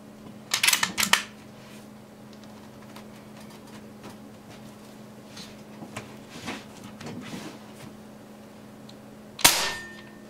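A Kral Puncher Jumbo .25 PCP air rifle fitted with a Talon Tunes bottle and tuned valve fires sharp, close cracks, a tight cluster near the start and another single loud shot near the end, with quiet handling noises between.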